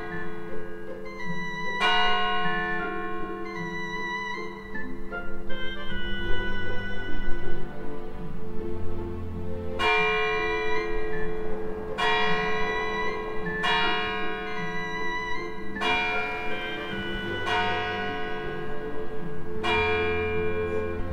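A church bell in Fort Kent, northern Maine, rings with uneven, irregular spacing between its strikes, each bright clang ringing out and decaying over a low steady background hum, with no talking.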